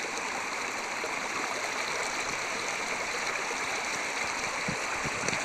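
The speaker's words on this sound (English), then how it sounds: "Paul's doing the first major water crossing we've come to." A rushing stream at a hiking water crossing, with waterfalls nearby, pours and burbles steadily and loudly throughout, unbroken and with no voices.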